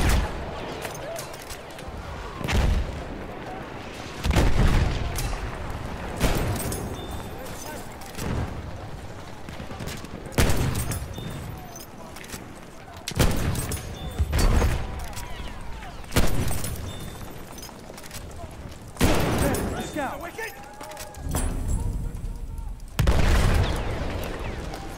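Martini-Henry rifle shots in Battlefield 1 scout gameplay, single heavy booming reports spaced a few seconds apart across a loud battlefield, with a voice talking between shots.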